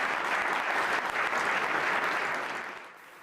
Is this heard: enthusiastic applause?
yes